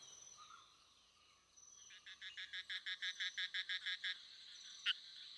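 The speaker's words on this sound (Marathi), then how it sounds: "नर बेडकांचे आवाज रात्रीच्या निरव शांततेत माद्यांना आकर्षित करतात" Male frogs call at night in a forest stream during the breeding season, giving a rapid series of about a dozen evenly pulsed croaks over a quiet backdrop of insects.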